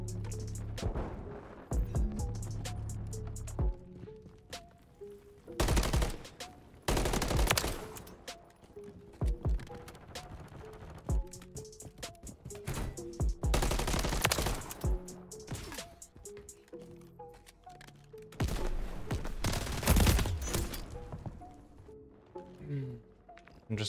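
Bursts of MCW rifle fire in Call of Duty: Modern Warfare III, rapid automatic volleys recurring through the clip amid other game effects, with someone talking throughout.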